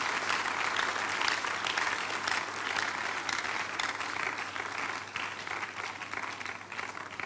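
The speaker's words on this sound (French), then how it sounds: "Give the Lord Jésus. a big hand of praise." A church congregation applauds in praise during a midweek communion service, sustained broad clapping from a large crowd that holds steady, then eases slightly toward the end, with no voices over it.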